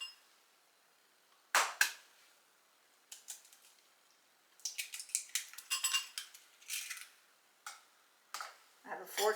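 Two eggs cracked and whisked with a fork in a bowl, sharp isolated clicks followed by bursts of rapid metallic tapping against the dish, close and clear with quiet gaps between.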